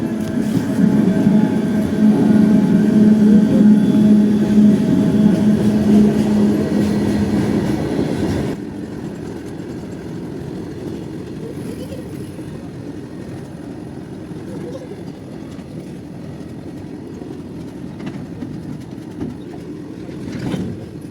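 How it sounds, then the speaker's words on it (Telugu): A train passing close by: a loud rumbling roar with rattling wagons for about eight seconds, then easing into a lower, fainter rumble that lingers to the end. "ఇక్కడైతే ట్రైన్ అయితే వెళ్తుంది"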